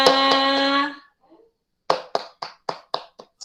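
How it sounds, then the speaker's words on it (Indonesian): Clapping for everyone in a classroom lesson, a short run of about seven sharp, fairly close claps following a sustained tonal sound. "tepuk tangan buat kita semua"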